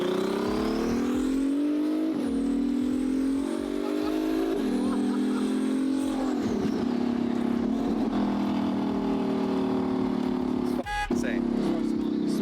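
A twin-turbo Ferrari F12 drives on a street, its engine droning loudly and steadily, rising and falling in pitch through gear changes and revs, with people talking over it.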